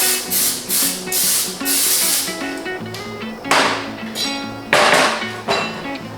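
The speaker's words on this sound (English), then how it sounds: "We're going to give our 9x13 pan, spray with some cooking spray." Several short bursts of cooking spray hiss in quick succession onto a 9x13 baking pan, close and fairly loud, with brief pauses between squirts.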